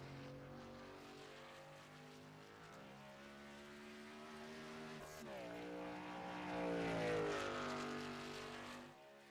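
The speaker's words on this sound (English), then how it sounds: "And Brett, you hear him shifting down into the corner" A race truck engine in an iRacing truck series qualifying session drones at a steady pitch, then shifts down with a sharp drop and revs back up into the corner. The engine is loud and clear with no speech over it.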